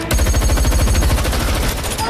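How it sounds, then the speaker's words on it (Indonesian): Rapid automatic gunfire from a film shootout during an armoured cash-truck robbery, loud and continuous bursts of machine-gun fire with dense rhythmic reports filling the whole stretch. "baku tembak yang sengit tersebut menjadi kesempatan bagi Hill untuk menunjukkan diri"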